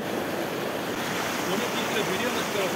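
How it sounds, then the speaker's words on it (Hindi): Rushing water of the Rangeet river during a boat trip, a steady broadband wash with wind buffeting the microphone and no distinct events, loud and continuous throughout. "ये रंगीत नदी है"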